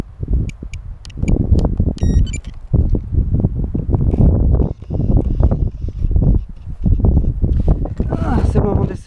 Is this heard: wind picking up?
yes